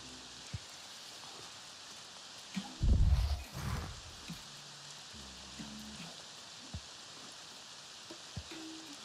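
Steady rain hisses in Avatar: Frontiers of Pandora, a soft, even wash of drops running throughout, broken by a few scattered taps and a brief louder rumble of thuds midway.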